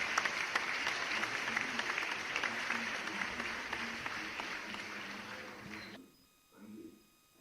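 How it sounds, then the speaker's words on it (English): Loud, sustained applause from a crowd, dense clapping that stops abruptly near the end, followed by a brief murmur. "Please, a round of applause for him."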